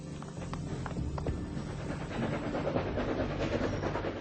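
A train runs with a steady, continuous rumble and clatter on Lincoln's 12-day rail journey across the western heartland and mid-Atlantic states, growing slightly louder after the first couple of seconds, with no talking.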